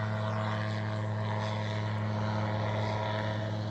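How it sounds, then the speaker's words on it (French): Gyrocopter flying low past overhead near a field, a steady buzzing propeller and engine drone holding loud and even throughout, with no voices. "il y a un mec avec un gyrocoptère qui est juste là et qui passe à côté de nous"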